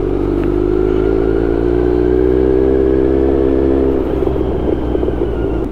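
A motorcycle engine runs hot during a rainy-season ride, making a loud, close, continuous droning hum with a steady pitch that dips slightly toward the end.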